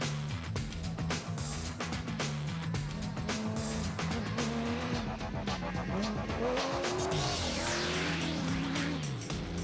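Off-road rally race trucks, including Toyota Hilux production-class entries and a Jimco, race hard at the Carnival City 400. Loud engines roar and shift gears up close, tires skid and squeal on loose ground, and a car sweeps past near the end.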